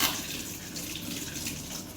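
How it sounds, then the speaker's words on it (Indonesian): Steady tap water running into a sink as hands are rinsed during a clinical handwashing routine, a continuous close hiss with no talking. "Setelah itu kita bilas dengan air yang mengalir."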